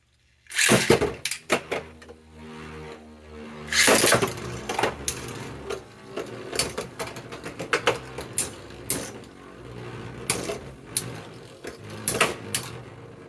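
Spinning Beyblade tops collide in a stadium during a stock tournament round, a rapid string of sharp metallic clacks and scraping hits, some loud and bunched, over a steady whirring background with no talk.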